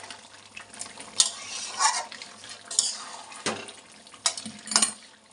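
Mutton cooking down in a pan with a spatula stirring and scraping, bursts of clatter and scrape among a soft sizzle, several distinct strokes over a few seconds, no talking.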